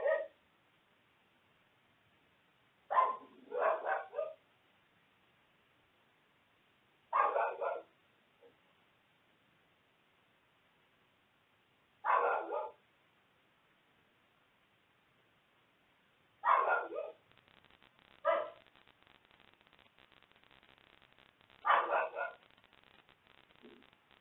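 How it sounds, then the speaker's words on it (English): A dog barks in short bursts of two or three woofs, repeating about every five seconds across the stretch, fairly close and clear with quiet gaps between, while people can faintly be heard outside. "I just know he's gonna bark."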